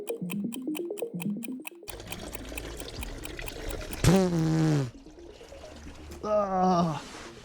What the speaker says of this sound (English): So once you've got the oil drained and you've wiped it all off your face